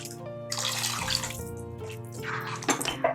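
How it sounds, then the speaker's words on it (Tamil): Water left over from grinding onion and tomato is poured into a pan of sweet corn masala, splashing and trickling steadily for a few seconds with no talking. "நம்ம வந்து அந்த தண்ணியை ஊற்றிங்க"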